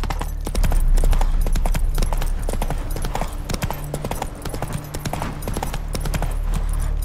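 Roach, a horse in The Witcher 3, gallops in a steady rapid clip-clop of hooves, loud and close, over a continuous game soundscape with no talking.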